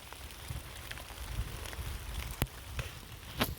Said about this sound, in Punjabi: ਆ ਦੇਖੋ ਮੀਂਹ ਪੈਂਦਾ